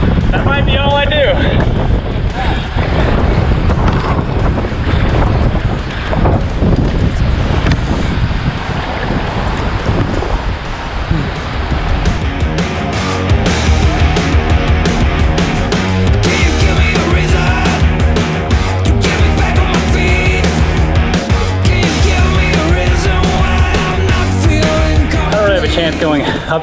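Strong headwind roars and buffets the microphone while a kayak is paddled upstream on a river, with a loud, continuous rush and gusting throughout and faint water sounds beneath.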